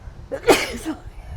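A single sharp sneeze bursts out close to the microphone indoors, brief and fairly loud against a quiet background.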